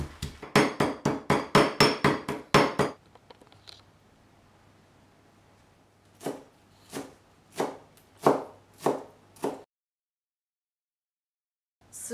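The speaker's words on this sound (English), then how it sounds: "Crush the garlic like this." Garlic with a pinch of salt being crushed in a bowl: a rapid run of about ten sharp, hard pounding strikes, then a pause and a slower series of six or so heavier thuds, close and loud.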